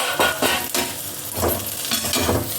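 Kochur loti with coriander leaves being stirred in a pan: several scraping strokes of a spoon against the pan over a faint sizzle, close and fairly loud, no voices.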